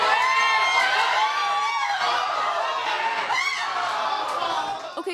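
Loud crowd of World Cup fans packed into a Spokane sports bar during a watch party, a dense continuous roar of cheering and shouting voices close around, fading slightly at the end.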